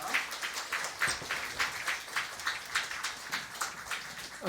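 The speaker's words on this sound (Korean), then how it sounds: "우리 다 같이 하나님께 영광의 박수 올리시겠습니다" A church congregation applauds together at a deacon ordination service, a dense rhythmic clapping that pulses steadily and stays at moderate loudness for the whole stretch.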